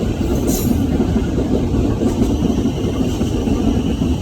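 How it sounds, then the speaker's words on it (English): A train rumbles steadily along the track, loud and continuous, with a heavy low roar and faint rhythmic clatter. "Plenty of noise pollution. I think it's a railway."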